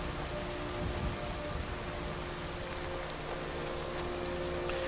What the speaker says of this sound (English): There's no shelter from rain on porches and underneath roofs. The rain just comes through.